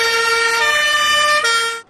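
An emergency vehicle siren, ambulance or fire engine, sounds during a New Year's Eve 2015 celebration, a loud, steady wailing tone held close and clear before cutting off abruptly.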